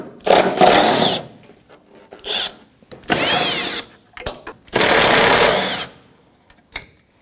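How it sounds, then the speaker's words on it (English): A 10mm socket on a powered driver spins a headlight mounting nut off a Jeep Patriot, heard as several loud whirring bursts of about a second each, separated by short pauses and small clicks. "there's 3 mounting screws right here, or shall I say mounting nuts, and it's a 10mm socket"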